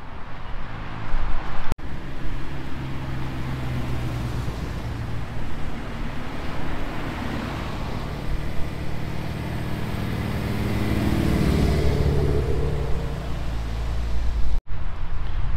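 A car drives past at a Lexus and Toyota meet in Carlsbad, California, its engine rising into a growling, loud pass near the end before fading, set against steady outdoor road and wind noise with no talk.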